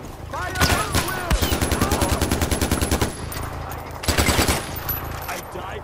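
Rapid machine-gun bursts from a first-person shooter play loud and close in two long strings, with sharp individual reports between them and brief shouted voices near the start.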